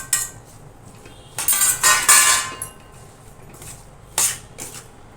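A spoon stirs amla into a sweet-and-sour Indian pickle mixture in a pan, giving several close metallic scrapes and clinks in short bursts, with quiet pauses between strokes.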